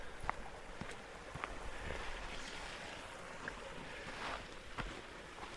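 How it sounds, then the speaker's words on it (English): A small brook flows along a Norwegian hiking trail, a continuous soft rushing and babbling of water heard from nearby at low level, steady throughout with no talking. "A little creek, a brook."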